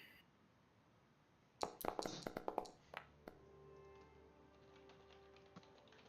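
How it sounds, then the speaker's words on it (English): Quick keyboard typing in a bursty cluster of sharp taps, fairly close, followed by a few scattered clicks and then a low steady room hum with no talking. "Gotta work on my damn typing."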